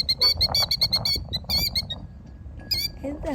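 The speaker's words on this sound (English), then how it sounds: "This is the Killdeer bird." A killdeer near its nest with four eggs gives rapid, shrill repeated calls in quick bursts, loud and close, pausing briefly before another burst, with low handling noise and a voice near the end.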